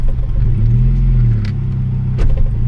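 A Saab 9000 2.3 CSE with both hydraulic engine mounts worn out idles with a steady, close low rumble and vibration, alone with no talking.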